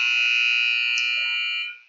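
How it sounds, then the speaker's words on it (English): A loud, sustained electronic buzzer sounds at the end of the first period of a youth hockey game, holding one steady tone for nearly two seconds before cutting off. "And there is the buzzer for the end of period 1."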